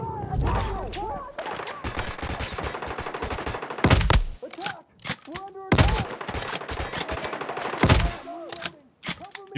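Gunfire from the survival shooter Once Human, with rapid bursts of shots broken by short pauses and heavy sharp reports, set in a busy game mix with talking throughout.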